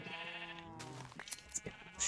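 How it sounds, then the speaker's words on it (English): A sheep bleats in a video game, one clear drawn-out wavering call up close, followed by soft scattered game sounds. "Sheep."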